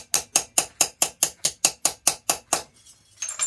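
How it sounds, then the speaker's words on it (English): A coppersmith in Sarajevo taps a textured dot pattern into copper sheet, producing about fourteen evenly spaced, ringing metallic strikes at a brisk steady rhythm, close and clear, followed by a brief quieter shuffle. "I will use that kind tools and I will do dot by dot, hit by hit, slowly hit, slowly move and make texture"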